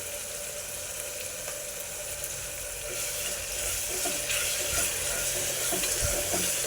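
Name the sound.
ginger garlic paste frying in pan for mutton curry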